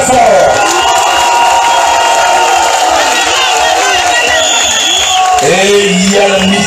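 A large crowd at a political rally in Côte d'Ivoire cheers and applauds loudly and steadily, with shouts and whoops rising over continuous clapping throughout.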